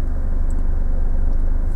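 A car engine held at a steady, low, rumbling idle with a touch of throttle, loud and close inside the vehicle, with no talking.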